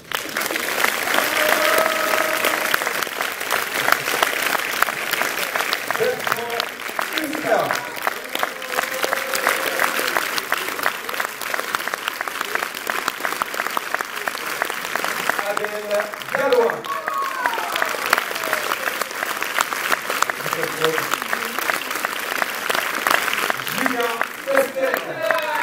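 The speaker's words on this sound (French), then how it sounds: "on va applaudir bien fort Cyrus Shady" Prolonged clapping from a cinema audience at a UGC preview screening greets the casting director, steady and dense throughout, with scattered voices and occasional cheers mixed in.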